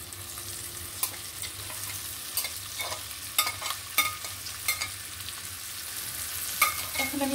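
Fried snake gourd (chichinga) and egg bhuna being stirred in a pan, a steady sizzle with irregular scraping clicks of the spatula throughout, close and moderately loud, no talking.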